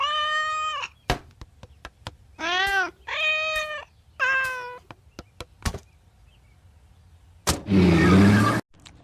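A cartoon kitten in The Simpsons gives several clear, close meows in quick succession, interspersed with sharp clicks and knocks, then a burst of noisy rustle near the end, with no talk.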